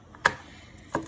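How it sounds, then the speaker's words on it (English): Broccoli florets rough-chopped with a knife: two sharp, close knife strikes on a board about 0.7 seconds apart, with no talking. "These are broccoli florets, and we are going to just give a rough chop."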